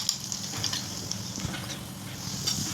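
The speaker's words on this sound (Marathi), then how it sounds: "वरतून घालणार आहोत अशी पहा फोडणी, ड्रायफ्रूटची फोडणी आहे ना मस्तपैकी" Dry fruits sizzle steadily in hot fat as a tempering for beetroot halwa, a close, continuous crackle with small bursts of popping throughout.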